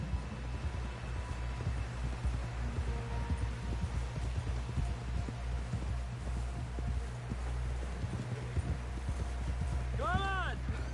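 Horse hooves clip-clop at a steady gallop through a Red Dead Redemption 2 game scene, a continuous rhythmic beat over outdoor ambience, with a brief whinny near the end.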